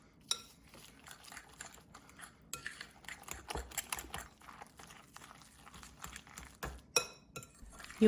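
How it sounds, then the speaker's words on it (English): Salmon, mashed potato, eggs and parsley being mixed in a bowl, a run of quick irregular scraping and clinking taps of a utensil against the bowl, close and fairly quiet. "we'll mix everything together really well"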